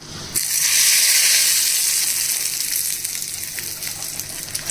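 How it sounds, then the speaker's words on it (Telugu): Dried red chillies, cumin and curry leaves sizzle in hot oil as a tempering for onion-tomato chutney, a loud, steady hissing crackle that begins abruptly and continues unbroken, easing slightly toward the end. "ఆయిల్ వేడైన తర్వాత 2 ఎండుమిరపకాయలు తుంచేసి వేసుకోవాలి"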